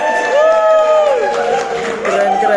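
Students in a classroom clapping and cheering as a group, a short busy burst of applause with excited voices and shouts layered over it, loud and close.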